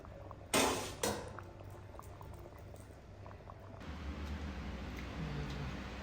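Jamaican goat curry simmers in a pot with a steady bubbling hiss near by, two sharp clanks early on, and the boiling grows denser and a little louder toward the end.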